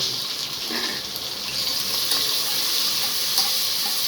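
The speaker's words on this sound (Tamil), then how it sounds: "வெங்காயம் நல்லா வதங்கணும்." Sliced onions, green chillies and curry leaves sauté in a pan for kuska, giving a steady, moderately loud frying hiss close by with no voices.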